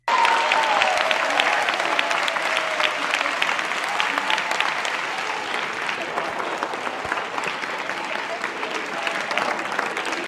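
Audience at a Podemos political event applauding loudly and continuously, dense clapping that stays steady for the whole stretch with no voices rising above it.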